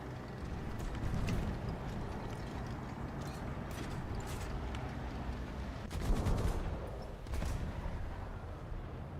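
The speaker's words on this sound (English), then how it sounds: "I saw some tracers and decided to shoot there" Gunfire in War Thunder, scattered sharp shots and short bursts over a steady mechanical rumble, moderately loud, with a heavier cluster of fire near the end and no voices.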